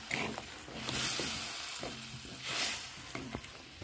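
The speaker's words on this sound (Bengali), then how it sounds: "1 চিমটে হলুদ দিয়ে দেবো, লবণ দিয়ে দেবো, দিয়ে ভালো করে নেড়ে দেবো।" Garlic cloves with turmeric and salt being stirred in a frying pan, soft sizzling under repeated scraping strokes of a spatula against the pan, faint and close.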